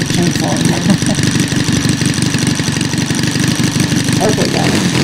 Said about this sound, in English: You can tell the difference in the engine sound.